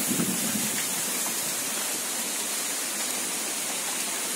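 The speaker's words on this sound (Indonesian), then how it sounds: "Oh, ini hujan beneran ini kayaknya." Heavy rain pours down beside a river near a home, making a steady, dense hiss that fills the scene evenly from start to finish without any pauses.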